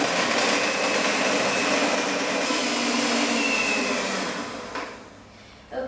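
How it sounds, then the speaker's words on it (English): An electric mixer beats cupcake frosting in a bowl with a steady, loud motor whir that holds evenly, then eases off and drops away near the end. "beat it in a bowl of an electric mixer or with a hand mixer until it becomes smooth and creamy"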